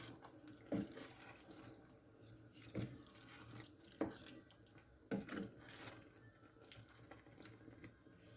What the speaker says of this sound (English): And then we're going to fill the tin 1/4 of the way with water.